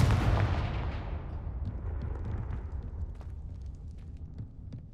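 A Confringo fire spell going off in Hogwarts Legacy: one heavy explosive boom that rolls into a long, rumbling decay fading over several seconds.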